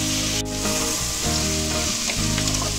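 A seafood mixture for Chilean paila marina sizzles loudly in a hot pan, with steady close frying and the scrape of a spoon stirring through it. A sharp clink sounds near the start, with faint music underneath.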